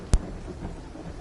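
A thunderstorm rumbles in the game Black Ops 3: one sharp, close crack of thunder at the start, then a low rumble and steady rain-like hiss.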